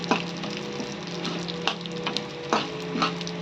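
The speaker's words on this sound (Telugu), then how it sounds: "ఇదిగోండి నువ్వులు వేస్తున్నాం." Sesame seeds for gongura chutney sizzle and crackle in a hot pan, a close, steady frying hiss with occasional sharper pops and scrapes of stirring.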